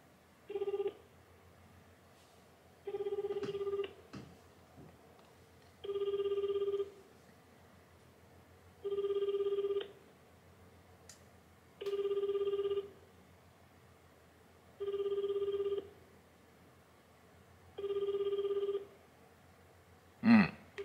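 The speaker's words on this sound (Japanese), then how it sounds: "じゃあちょっと電話させてもらいます。" Ringback tone heard over a telephone call to a Tokyo government office: seven evenly spaced electronic ringing bursts about two and a half seconds apart, faint and alone, ending in a click as the line connects.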